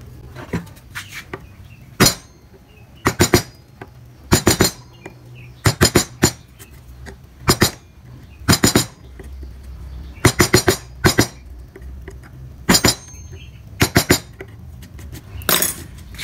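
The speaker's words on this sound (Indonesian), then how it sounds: "kalian bisa rapikan menggunakan pahat kol kayak gini ya teman-teman" Hand wood carving with a pahat kol gouge, tidying the edges of a carved ornament: sharp, close taps and clicks of mallet on chisel, in single strikes and quick clusters of two to four, over a quiet background.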